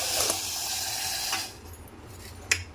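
A cupful of water poured onto sugar in a pan for a sweet syrup, a close, steady splashing pour that stops partway, followed by a quiet pause and one small clink.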